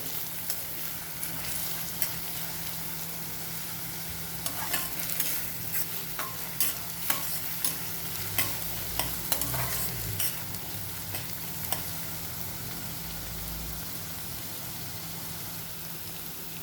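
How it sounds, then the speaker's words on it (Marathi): Grated garlic and chopped onion frying in a pan for a spicy ambadi sukat dish, a steady close sizzle with occasional stirring scrapes and clinks throughout, and no talking. "दोन तीन लसूणचा कली असे मी किसून घेतलं ते पण त्याच्यामध्ये टाकून चांगले फ्राय करून घेऊ"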